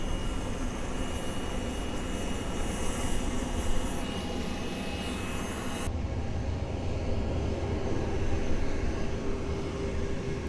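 A jet airliner taxiing on runway 10L at Fort Lauderdale airport, a steady broadband engine roar that holds throughout, fairly close and loud, with no talking.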